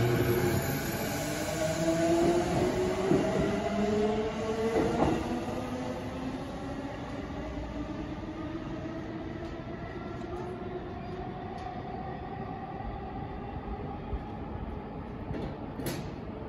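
E233 series commuter train departing platform 2 at Kokubunji station, motors whining upward in pitch as it pulls away, with rolling wheel noise and faint clatter, steady and moderately distant.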